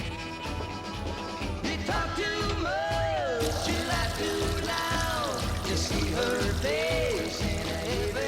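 Water runs steadily from a kitchen tap at a fair rate, a constant rushing flow under background music with melodic tones and brief vocal sounds.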